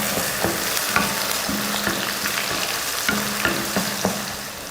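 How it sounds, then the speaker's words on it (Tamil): Small shallots, garlic cloves and curry leaves sauté in a hot pan with a dense, continuous sizzle, while a spoon scrapes and stirs at a loosely regular pace close by. "ஒரு 20 போல் சின்ன வெங்காயம், பூண்டுப்பல் ஒரு 10-15, கருவேப்பிலை. இப்போ இதை நல்லா வதக்கிடலாம்."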